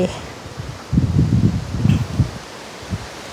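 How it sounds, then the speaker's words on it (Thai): Strong wind gusts through a front-yard flower garden, rustling leaves in uneven surges and buffeting the phone microphone, then easing toward the end. "ลมแรงแรงมันจะเข้าไปในโทรศัพท์เราไหมเนี่ย"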